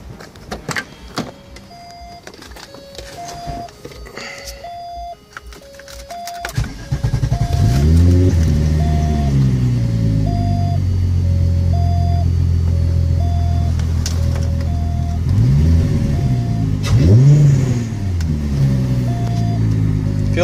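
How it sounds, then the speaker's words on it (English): A supercharged M90 engine fitted with a 2.5-inch intercooler and piping cranks and catches, then settles into a loud, steady idle with rising and falling revs and a prominent whine, preceded by intermittent clicking and beeping. "I'm gonna start her up."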